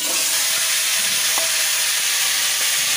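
Greens, eggplant, potato and green chillies sizzle steadily in hot oil tempered with panch phoron, a continuous close frying hiss with occasional soft stirring knocks.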